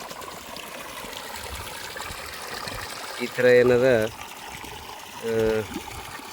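Water trickles steadily onto a crop during a soil drench in a field, a low continuous wash that stays in the background while a person speaks in two short bursts.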